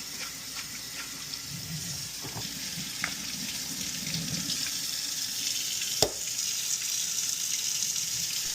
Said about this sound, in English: Rinse everything under warm water and gently scrub off any buildup.